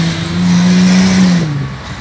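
A 2008 Hyundai Azera fitted with an acceleration module accelerates hard, its engine note rising loud and close in a brief two-second surge, then easing off.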